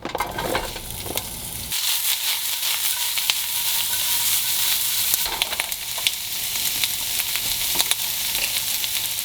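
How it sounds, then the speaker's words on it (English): Vegetables hit a very hot pan with a loud burst, then settle into a strong, continuous sizzle with occasional crackles and clinks, no voices. "now that our pan's really hot, I'm going to go ahead and throw it in our vegetables"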